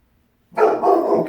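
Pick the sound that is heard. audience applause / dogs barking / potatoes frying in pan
dogs barking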